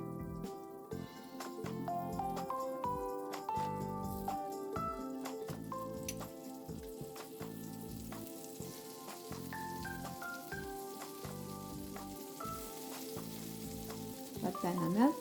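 Butter melting and sizzling in a hot frying pan before salmon goes in, a steady crackling fry running under continuous background music for the whole stretch.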